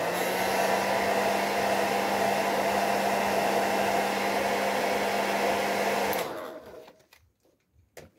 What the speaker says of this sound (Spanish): Con el secador se seca rápido el pegamento